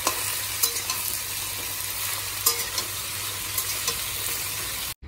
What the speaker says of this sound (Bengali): যে মাছগুলো দিয়ে দিলাম, আর এই সাইডে যে তরকারিও বসিয়ে দিয়েছি